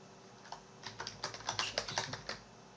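Quick burst of typing on a computer keyboard, a dozen or so light, close key clicks in an uneven run, quiet and alone.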